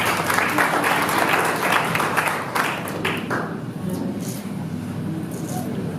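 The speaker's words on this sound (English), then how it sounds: "Let's give him a big clap." Audience applause at the opening of a Nigerian Psychological Association congress, with a dense, loud burst of clapping that tapers off midway into softer scattered claps and room murmur.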